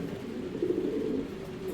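Racer pigeons from a BRPFC club member's loft coo in a low, steady, faint warble, with no talking over it.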